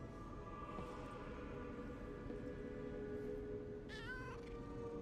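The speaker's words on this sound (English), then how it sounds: "Yeah, I can pet the cat." A cat meows while being petted in the video game Lies of P, a short clear meow near the end over a steady, low background hum, faint overall and with no talk.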